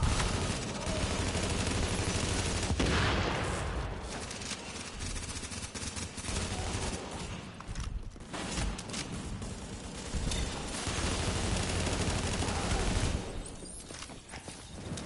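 SMG gunfire in the shooter game The Division, dense continuous rattling bursts over a busy game soundscape, loud and almost unbroken for the whole stretch.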